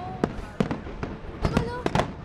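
Fireworks burst over Portugal in a quick series of sharp booms and crackles, some near and loud, others lighter, while people talk and react excitedly in between.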